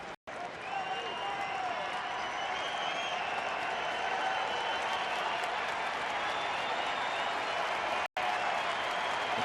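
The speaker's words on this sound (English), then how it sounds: "The crowd is anxious in anticipation of Alexi's 90th pitch of the game." A baseball stadium crowd at a Mariners versus Rangers game in Texas keeps up a steady roar with scattered clapping, while a broadcast commentator talks over it.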